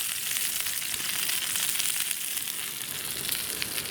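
Bacon frying for a bacon sandwich at a lakeside fishing spot, giving a steady, bright hiss of sizzling fat that runs unbroken and fairly loud throughout.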